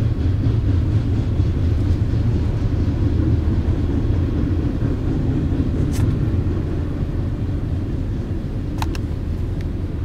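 A heavy, continuous low rumble of a CSX freight train rolling past nearby, steady throughout with faint squeaks on top.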